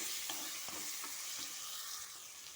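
Chili powder is stirred into sambar in a hot pan. A continuous sizzle runs under a few soft, rhythmic scraping stirs, close by, with no voices.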